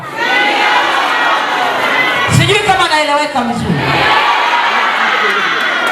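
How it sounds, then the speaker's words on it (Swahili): A large crowd at a political party rally cheers and shouts in a loud swelling burst, with a speaker's voice over the public address before and after. "Nimeona shangwe ambalo mmelitoa kwa dada yangu."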